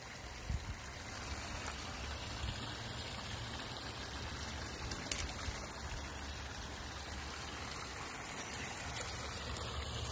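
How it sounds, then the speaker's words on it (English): A waterfall rushes in a steady, broadband roar that holds evenly for about ten seconds, moderately distant and with no voices over it. "Yeah, it's a waterfall."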